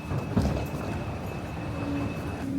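Steady rumble of a commuter train ride toward Amstelveen, a continuous low roar with a thin, constant high whine running through it, brief squeaks near the end, and no voices.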